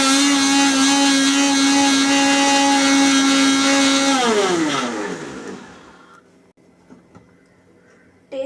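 Blender grinding lemon for lemonade, a loud steady motor whine with strong harmonics that drops in pitch as it switches off, followed by quiet clinks and small handling noises.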